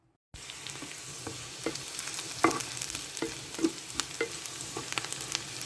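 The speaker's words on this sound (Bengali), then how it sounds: "পেঁয়াজ রসুন ভেজে নিচ্ছি, ভেজে একটু লাল করলে তারপর ডালে বাগার দিব" Onion and garlic fry in hot oil for a dal tempering, giving a steady close sizzle peppered with small pops and crackles. It starts abruptly after a brief silence, with no talking.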